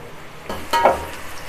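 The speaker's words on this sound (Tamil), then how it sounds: "நம்ம வெங்காயத்தை நல்லா வதக்கிக்கலாம்" Large onions sauté in a pan for a chicken masala thokku, a short burst of sizzle and a spatula scrape over a low hiss.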